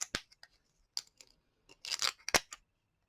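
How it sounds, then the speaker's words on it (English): Protective tape is peeled off double splice tape for a Panasonic feeder, producing a short run of crisp, close tearing and crackling bursts separated by silent gaps. "Pull the rest of the protective tape off and use the perforation to give you that nice alignment on the bottom."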